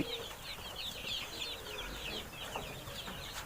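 Chickens of various ages, from tiny chicks to grown hens, cluck and chirp continuously on a poultry farm, a busy layered chorus of peeping and clucking heard fairly close and soft.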